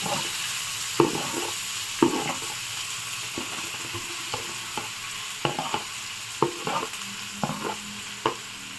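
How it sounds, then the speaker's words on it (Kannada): Finely chopped onions frying in a pan for egg curry, a continuous sizzle broken by regular spatula scrapes roughly every second, close and without speech. "ನೋಡಿ, ಗೋಲ್ಡ್ ಬ್ರೌನ್ ಬರೋವರೆಗೂ ಈರುಳ್ಳಿನ ಫ್ರೈ ಮಾಡಿಕೊಡಿ."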